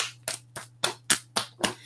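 A person's hands clap out an uneven, off-beat pattern, imitating someone who clapped against a steady beat: seven sharp, close claps at irregular intervals, with a low steady hum underneath.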